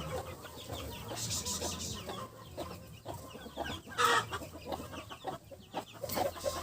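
A mother hen clucks steadily while leading her chicks around a garden, with repeated soft clucks and occasional peeps at moderate distance amid faint outdoor noise.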